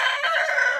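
A rooster crows close by, one loud, sustained cock-a-doodle-doo call standing alone.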